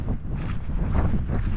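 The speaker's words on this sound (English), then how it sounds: "the wind's blowing a gale" Strong gale-force wind buffeting the microphone on a fell walk from Bonscale Pike to Hallin Fell, a loud continuous low roar with gusting swells and no pauses.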